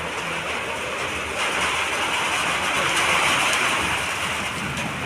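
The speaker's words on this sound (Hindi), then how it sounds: "यहाँ पर पूरा बारिश होने लगा" Steady rain pours down in a continuous, dense hiss that fills the whole stretch without breaks, fairly loud and close, with no voices over it.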